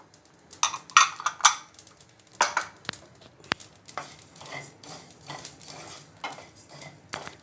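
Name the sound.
coriander seeds added and stirred in hot pan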